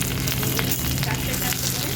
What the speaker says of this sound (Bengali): এবার আমি পাথুরিগুলো খুব ভালো করে ভাজবো।